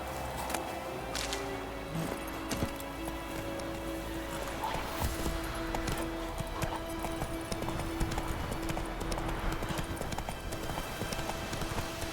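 Horse hooves clip-clop steadily in the video game The Witcher 3, an even trotting rhythm that runs throughout over a continuous ambient background.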